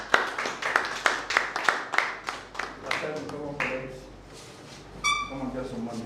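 Scattered clapping from an audience at a breakfast business meeting, a few sharp claps that fade within a couple of seconds, followed by a person talking.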